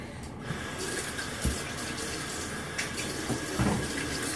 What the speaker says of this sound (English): I'm gonna wash my hands really fast